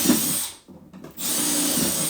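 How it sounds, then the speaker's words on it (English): Power drill boring holes through a mounting plate, a steady close whine that cuts out for half a second and then resumes at the same pitch. "Drill your holes."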